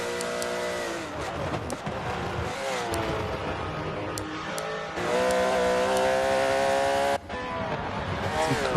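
Race car engine in a sim racing game, revving hard through gear changes across a lap with a brief lift around the seven-second mark, loud and continuous with rising and falling harmonic whine.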